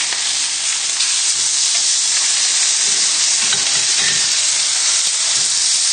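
Pieces of lamb sizzle loudly in a hot pan just after being turned, a dense, constant frying hiss that holds steady from start to finish with no talking over it.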